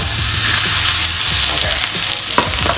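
Sliced onion frying in a pan with a splash of water, a continuous close sizzle broken by occasional stirring scrapes and a light clink, no talking.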